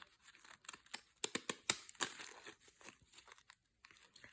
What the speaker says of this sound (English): I think it's because this paper is so terrible and thin, because my scissors are not that crummy